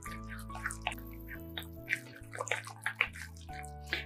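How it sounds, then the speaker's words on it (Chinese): Wet squelching and sloshing as minced meat filling is stirred in one direction with a beaten egg and seasoned oil, irregular soft splats over quiet background music. "继续顺着一个方向搅拌，给它搅拌上劲"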